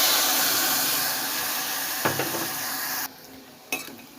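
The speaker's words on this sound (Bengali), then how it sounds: "তো এই পর্যায়ে এবার মুসুরিটা দিয়ে দিচ্ছি।" Red lentils go into a pot of boiling spiced water, with a steady bubbling hiss, a soft clatter partway through, then quieter simmering broken by one more brief knock near the end.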